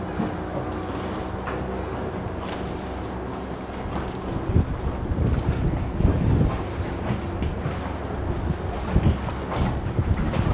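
Boats passing on a lake on a fishing tournament day, giving a steady low engine and water rumble with wind buffeting the microphone and a few louder surges in the second half.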